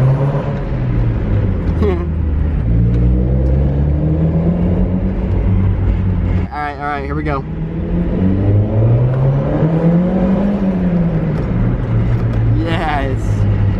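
A Mazda Miata engine revs and drones in a parking garage, rising and falling in pitch with echoing exhaust, while a person speaks briefly.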